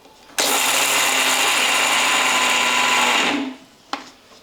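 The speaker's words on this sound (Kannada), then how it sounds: "ಈಗ ಮುಚ್ಚಳ ಮುಚ್ಚಿ ನುಣ್ಣಗೆ ರುಬ್ಕೋತೀನಿ ರೀ." A mixer grinder runs steadily for about three seconds, finely grinding sesame seeds and roasted peanuts, a loud continuous whirring hum that winds down, followed by a brief click.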